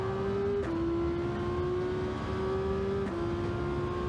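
Gr1 prototype race car in Gran Turismo 7 on the Daytona Road Course, its engine holding a loud, steady high drone under hard acceleration with nitrous, with short dips at gear shifts.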